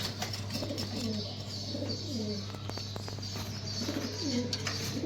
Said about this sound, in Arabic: حمام محترم جدا اهو